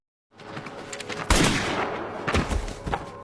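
In a Squid Game film scene, the Front Man shoots a guard: two sharp, loud gunshots ring out about a second apart, each followed by a ringing tail.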